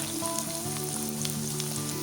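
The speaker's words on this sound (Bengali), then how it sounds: "বেগুন ভাজার পর কেটে রাখা উচ্ছেগুলো ভেজে নেব" Bitter gourd pieces fry in hot oil for Bengali shukto, giving a steady, close sizzle with crackling pops throughout and no talking.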